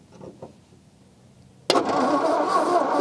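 An old Ford Flathead V8 left sitting for 42 years cranks briefly with a few faint turns, then abruptly fires and roars into a loud, rough, steady run.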